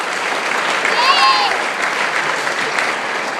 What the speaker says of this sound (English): I just want to give a quick round of applause for all the players